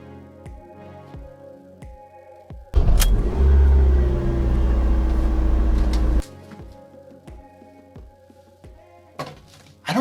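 A car engine revs in a loud sustained burst of roaring rumble for about three seconds, framed by clunky thuds and quieter mechanical clicking before and after.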